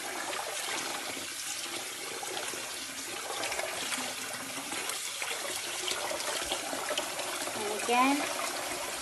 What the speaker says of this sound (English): you're just going to rinse it to get the bleach out.